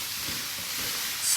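Minced lamb, onion and garlic frying in a pan on maximum heat, a soft continuous hiss and sizzle, fairly faint and brief, with no voices.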